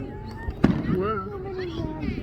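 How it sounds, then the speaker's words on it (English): Fireworks pop and crackle at a distance outdoors, one sharp bang standing out over a steady rumble while people talk nearby. "I know it's fireworks."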